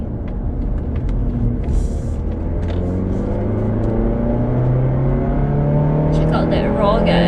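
A 2019 Mazda 3 sedan engine revs in sport mode while driving, its droning tone climbing steadily in pitch over road rumble with a brief change partway through.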